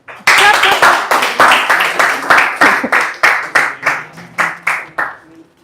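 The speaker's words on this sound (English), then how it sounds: "Please clap." A meeting audience claps in a burst of about a dozen loud, evenly spaced waves of applause close by, each swelling and fading before the clapping tapers off at the end.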